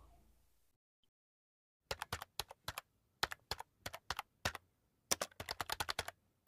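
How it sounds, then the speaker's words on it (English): Fingers type on a computer keyboard in quick bursts of crisp, close clicks separated by short pauses, after a brief quiet opening. "Here I will type the image I want it to generate for me."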